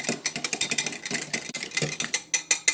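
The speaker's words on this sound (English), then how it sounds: "With a whisk, we'll whisk these 3 ingredients together." Egg yolk and vanilla being whisked together in a bowl with a wire whisk, a quick, even run of close clicking strokes, about five per second, with no talking.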